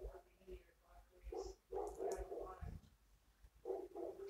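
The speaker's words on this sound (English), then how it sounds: "The dogs are barking." Dogs bark in several short, faint bursts in the background while people talk and banter nearby, the barks scattered irregularly across a few seconds.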